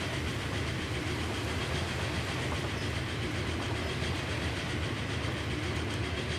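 A train in Transport Fever 2 runs along an elevated railway section, a steady, dense rumble with faint rhythmic clatter, continuous and fairly distant with no voices.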